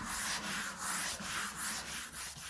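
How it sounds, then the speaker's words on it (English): Light hand sanding of a wooden hall table between coats of stain: soft, rhythmic rasping strokes, close and fairly quiet, roughly three back-and-forth passes per second. "I'm just going over softly, not with a harsh sandpaper, just to smooth it out a little bit"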